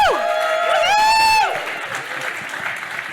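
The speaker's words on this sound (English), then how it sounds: "Everybody, give them a big round of applause." A conference audience cheers and applauds after a talk. A loud sliding whoop comes first, then settles into steady, moderate clapping.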